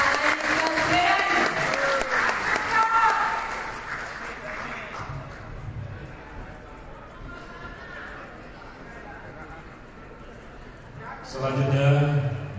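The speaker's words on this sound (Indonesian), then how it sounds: "Kita berikan tepuk tangan sekali lagi untuk Pak Anies Baswedan." Audience applause at a political declaration event for presidential and vice-presidential candidates held by an Indonesian workers' union confederation, with crowd chatter; clapping swells early and again near the end, mixed with voices.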